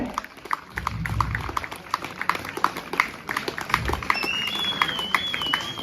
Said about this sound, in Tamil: உற்சாகமா கைதட்டுங்க